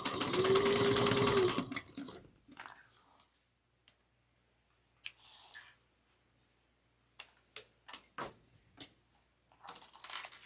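A sewing machine stitching a half-inch seam on a large tote bag runs in a fast, steady whir for under two seconds, followed by scattered clicks and handling sounds amid quiet pauses.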